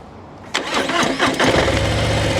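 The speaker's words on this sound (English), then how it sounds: "and the bike fires into life" A Harley-Davidson Fat Boy motorcycle's engine cranks and catches after a brief pause, then settles into a loud, close, lumpy idle with slight revving, with no voices.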